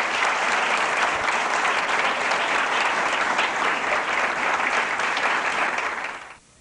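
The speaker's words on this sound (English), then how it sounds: "Please join me in giving a round of applause for these proud soldiers" Dense applause from an audience at a 1987 Fort Sill army graduation for new soldiers, loud and sustained, then cutting off sharply at the end.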